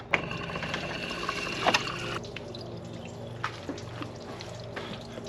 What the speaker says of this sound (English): I'm going to get a lot of fluid on the ground because I didn't drain everything.